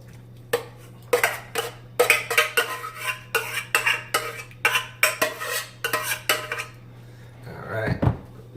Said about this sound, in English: So I'm gonna go ahead and add in the cooled down eggplant.